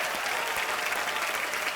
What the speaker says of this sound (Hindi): सर के लिए एक बार जोरदार तालियां आ जाए